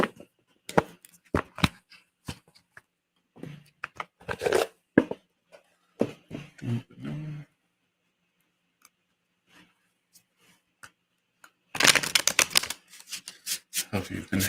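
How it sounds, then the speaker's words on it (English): Tarot cards being shuffled by hand, sharp bursts of riffling and flicking in uneven clusters, close and crisp, with a long quiet pause before a final flurry. "I'll go ahead and get us shuffling our cards"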